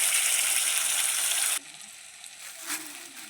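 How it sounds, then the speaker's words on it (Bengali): Chopped chillies and tomato paste frying in a pan for a potato curry, a loud steady sizzle that cuts off abruptly partway, leaving a quieter crackle with a brief burst near the end. "লঙ্কা কুচি দিলাম, একটু ভাজা ভাজা হয়ে গেলে দেব"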